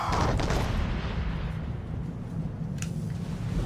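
Naval cannon fire from a frigate battle in Assassin's Creed III opens with a loud boom that fades into a long, low, rumbling roar of battle noise.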